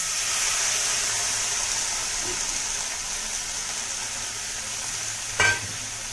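Chicken frying in a hot pan, a steady bright sizzle and hiss throughout, with a single sharp scrape or knock of a stirring utensil near the end; no talk.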